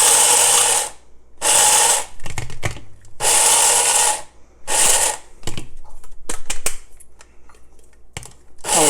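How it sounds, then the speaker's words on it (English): Toasted milk thistle seeds with fibrous shells ground finely in an electric grinder, loud whirring bursts of about a second each, repeated several times and then followed by short rattling taps and clatter, close up. "You're going to want to grind them pretty finely because, like I said, there's quite a bit of fiber in those shells."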